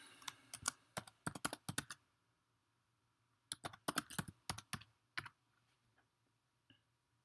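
A password typed on a computer keyboard, two quick bursts of close, crisp key clicks with a short pause between them and a few stray taps at the end, no talk.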